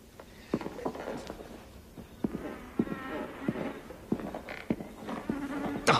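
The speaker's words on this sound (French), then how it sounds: "Putain de moustique!" A mosquito buzzes close by in a thin, wavering whine, mixed with scattered clicks, taps and rustling movement, with no talking.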